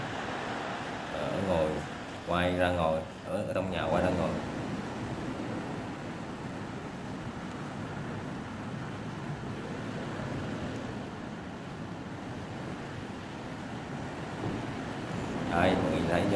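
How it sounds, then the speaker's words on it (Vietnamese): Very strong wind from Typhoon Molave roars steadily outside a house as the storm nears landfall, a dense, continuous rushing noise. Someone talks briefly over it early on and again near the end. "Vì cái này lúc này là gió rất là mạnh,"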